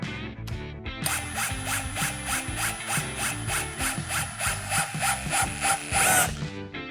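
A Procraft CD20B cordless drill in second speed and impulse mode drives a 185 mm, 8 mm screw into wood, giving a rapid, evenly pulsed hammering whine that runs for about five seconds before stopping.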